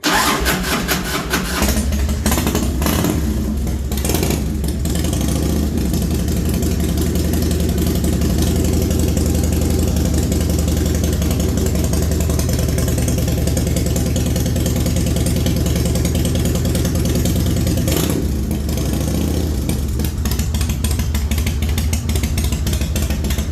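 Harley-Davidson Dyna T-Sport motorcycle engine starting and idling after reassembly, a loud, steady, close-up lumpy rumble with a brief blip partway through.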